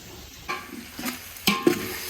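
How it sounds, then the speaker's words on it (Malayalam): Salted onions sautéing in a pan for beef biryani make a soft sizzle, broken by a few short scrapes and clinks as a utensil stirs them. "അങ്ങനെ നമ്മൾ ഗൈസ് ഉള്ളി വാട്ടിക്കൊണ്ടിരിക്കുന്നു."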